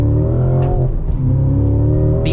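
A sports car engine with a manual transmission revs up loud and close, a steady throaty drone with rising pitch, held just before a launch control start.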